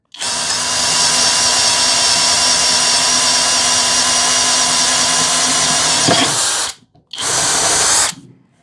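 A Hanabi LJ-2023 drill with 140 N torque bores through wood at low speed with a 24 mm Bosch Self Cut Speed spade bit, a loud, steady motor whine with a grinding cut that stops, then briefly restarts.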